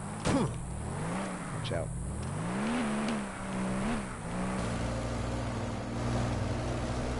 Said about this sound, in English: Get in the vehicle.